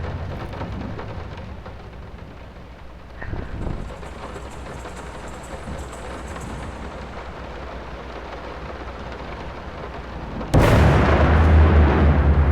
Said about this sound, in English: Oh, that thunder's loud.